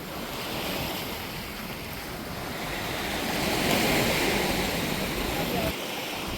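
Sea waves wash onto the shore of a beach where dried fish is being rinsed, a steady broadband roar that swells slightly midway, with wind buffeting the microphone throughout.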